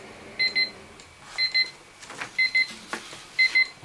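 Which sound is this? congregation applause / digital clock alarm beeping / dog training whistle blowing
digital clock alarm beeping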